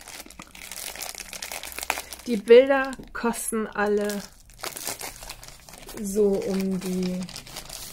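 A plastic bag from an online shopping haul crinkles and rustles in bursts while someone speaks German over it, the crackling close and mixed in with her voice.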